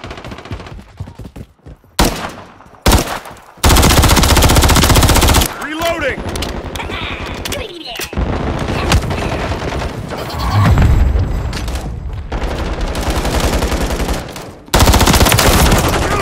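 Rival-9 submachine gun in Call of Duty MW3 Team Deathmatch on the Vista map, firing in loud sustained automatic bursts broken by short gaps, with game effects and chatter between.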